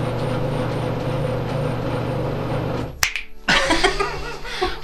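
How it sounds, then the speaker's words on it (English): A few sharp finger snaps ring out near the end, close and distinct, after a steady low hum of running machinery that cuts off abruptly. "Maybe if you snap your fingers."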